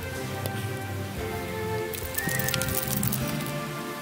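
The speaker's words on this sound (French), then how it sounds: "Il pleut." Steady rain falls outdoors with a dense patter of drops and a few sharper splashes, moderately close, and a faint bird call runs underneath.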